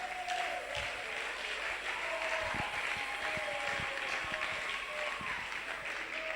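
Congregation applauding at a church gathering, a steady wash of clapping held at moderate level for several seconds, with faint voices and tonal sounds threaded underneath.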